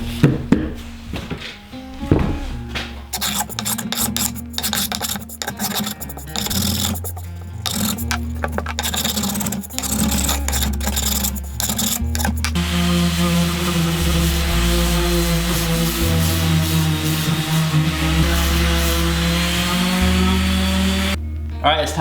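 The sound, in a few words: hand planer and random orbit sander smoothing a wooden cutting board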